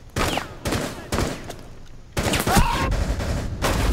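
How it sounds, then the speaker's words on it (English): Gunfire in the video game Rainbow Six Siege: repeated short bursts of automatic fire, then a longer sustained volley, loud and close with no talk. "What are you shooting at?"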